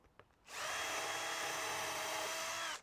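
A power drill bores into wood in a garden project, its steady high-pitched whine starting suddenly and holding at full speed for about two seconds before cutting off, close and alone.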